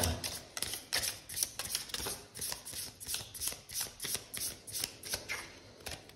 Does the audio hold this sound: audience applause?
no